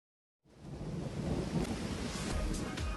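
Spring rain from a played classroom video, a steady broadband wash of falling rain with a low rumbling undertone that starts abruptly and holds at an even level with no voices.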